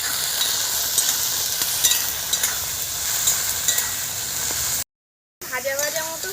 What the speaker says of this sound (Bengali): এক চামচ মতো একটু মরিচ, মতো জিরে, একসঙ্গে এটা কিন্তু আমি ভালো করে একটু ভেজে নেব।